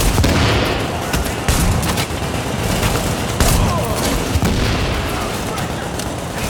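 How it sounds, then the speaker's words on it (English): Gunfire in the video game The Division, loud dense bursts of shots and booming impacts in rapid, continuous succession, with voices talking underneath. "Getting shot from behind."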